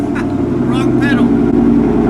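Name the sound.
Ford F150 engine revving from gas pedal press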